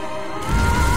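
Fireworks going off in the video game Diablo 3, heard as a sudden crashing burst that swells into a loud rumbling boom after a brief quieter tonal stretch.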